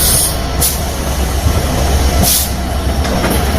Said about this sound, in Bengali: এই ট্রেন চলে যাচ্ছে